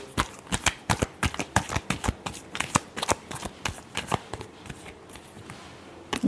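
Tarot cards being shuffled up close: a rapid run of crisp, papery riffling snaps at an uneven rhythm that thins out toward the end, with no talk over them.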